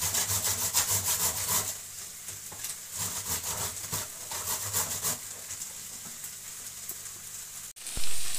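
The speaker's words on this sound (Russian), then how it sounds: "берем крупную терку и шинкуем морковку" Carrot is shredded on a coarse grater, a rhythmic run of rasping strokes that is close, moderately loud and has no talk over it.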